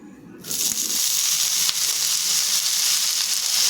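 Drumstick leaves hitting a hot pan, bursting into a loud, steady sizzle after a brief quiet start and holding evenly throughout, with one faint knock partway through.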